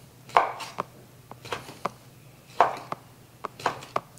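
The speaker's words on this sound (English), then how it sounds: "I try to cut them in enough small slices where everybody can get some." Knife chopping andouille sausage into small slices on a board, a handful of sharp, close taps in an irregular rhythm with short quiet gaps between cuts.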